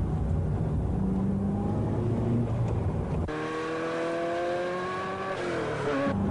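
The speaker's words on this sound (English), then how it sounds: "And now we'll be accelerating down the straight." A 1990 Ferrari F40 driven on a track accelerating hard down the straight, the engine note climbing loud and close through the gears, with a clear shift partway through.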